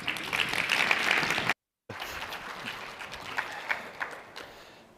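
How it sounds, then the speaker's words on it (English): An audience at a disaster recovery conference general session applauds, loud clapping that cuts out briefly, then resumes more sparsely and fades, heard from within the hall. "Give them a round of applause, please."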